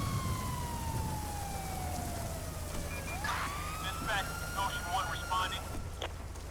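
A police car siren wails in Grand Theft Auto 5 with the LSPDFR mod, a falling tone that shifts into a rising yelp and choppy warbles, fairly faint and steady, cutting out near the end.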